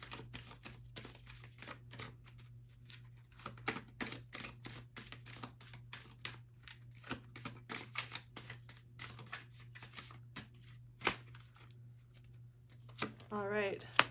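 Tarot cards being shuffled vigorously up close, a long run of quick riffling clicks and soft slaps, with a brief flutter near the end.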